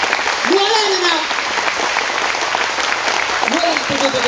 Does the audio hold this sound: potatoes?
no